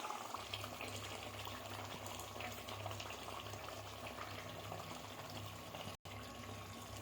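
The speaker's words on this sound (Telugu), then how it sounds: "ఇదిగోండి ఇలా మగ్గాలి." Tomato paste simmering in a pan for a soya kofta curry: a steady, quiet bubbling and soft sizzling runs throughout under a low background hum, briefly cutting out near the end, with no talking.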